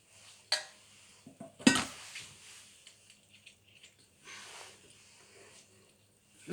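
A thick homemade dishwashing liquid mixture is stirred in a container, giving sparse quiet scrapes and clinks of a utensil, one sharp knock, and faint background noise.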